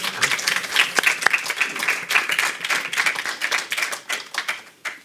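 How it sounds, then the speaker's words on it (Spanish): An audience in a Madrid venue claps together at a storytelling event about Mexican ghosts and legends, a bright, crisp patter of hands that stays lively, then thins slightly near the end. "sí, un aplauso, sí."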